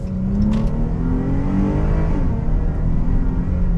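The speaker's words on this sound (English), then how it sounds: "last pull and we'll call this a day" A Chrysler 300 accelerates hard, a close, loud, continuous engine roar with the pitch climbing steadily through the pull.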